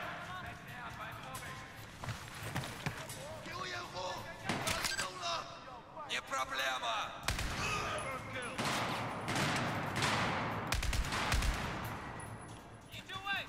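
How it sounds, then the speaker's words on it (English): Rapid assault rifle gunfire in Battlefield 4 on the Kunlun Mountains prison-break level, loud and close, with dense bursts of shots and cracks running throughout, mixed with game noise and a voice in the background. "Let's switch to the assault rifle"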